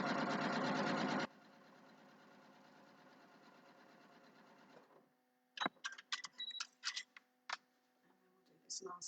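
A domestic sewing machine set to a long stitch length runs steadily while stitching a quilting line on a small quilt, loud at first and then quieter, followed by clicks and small handling knocks.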